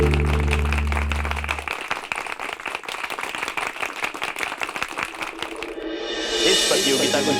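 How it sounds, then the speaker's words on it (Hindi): Applause for Bablu at a competition: a held musical tone gives way to several seconds of steady group clapping, ending in a rising whoosh. "इसलिए बबलू पुत्र के लिए जोरदार तालियां।"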